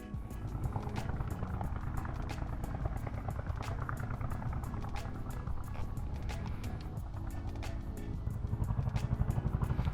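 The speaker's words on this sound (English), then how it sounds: "It's like a helicopter who just landed over, like a military helicopter." Continuous loud, rumbling engine noise with a rapid rhythmic chop, a military helicopter's rotor beating steadily nearby overhead for the whole stretch.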